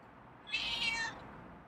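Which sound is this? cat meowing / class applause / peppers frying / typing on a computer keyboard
cat meowing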